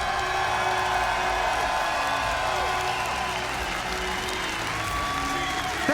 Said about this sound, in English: let's give W7M a round of applause